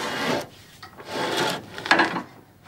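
A hand auger bores through a tree trunk to hollow out a wooden water pipe, giving rhythmic rasping, scraping strokes of wood against metal, about three passes, close and alone without talk.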